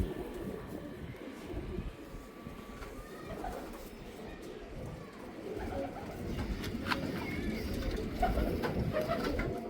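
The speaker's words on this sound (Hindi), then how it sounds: "कबूतर है।" Domestic flying pigeons coo softly and repeatedly, with throaty rolling calls rising over a steady outdoor background of low rumbling noise.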